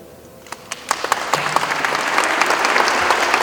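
Audience applause at a book presentation event, building from scattered claps into steady, full clapping from a sizable crowd that grows louder and fills the room.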